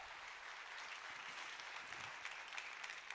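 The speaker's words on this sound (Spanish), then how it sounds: "Dale más fuerte ese aplauso al Rey" Faint applause from a church congregation, a steady patter of clapping heard at a distance and quite soft.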